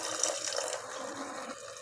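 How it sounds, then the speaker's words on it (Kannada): Milk pours steadily into a cooking pot of greens, a continuous liquid splashing and trickling stream that softens toward the end, close by with no talking. "ನಾನು ಸ್ವಲ್ಪ ಹಾಲು ಹಾಕ್ತಾಯಿದ್ದೀನಿ."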